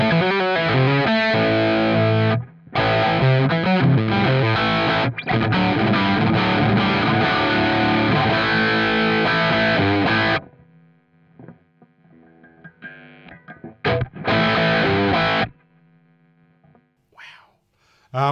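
Distorted electric guitar played through a NUX Trident's 1987X 50-watt amp model: loud, thick chugging riffs with brief gaps, then sparse picked notes and pauses where a low hum lingers.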